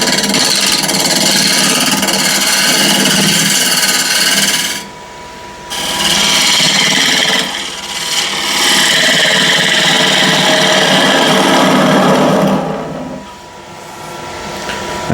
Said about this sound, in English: first I'm going to rough this out with a Continental spindle gouge 3/4 inch wide